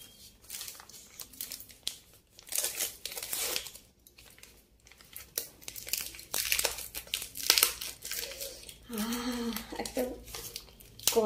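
A Swiggy food delivery package is crinkled and torn open at close range, with bursts of plastic and paper rustling separated by brief pauses and a short voice near the end.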